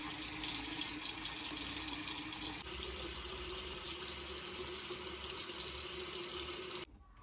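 Tap water runs steadily into a bathroom sink while a face is wetted, a close, continuous rushing stream that cuts off abruptly near the end.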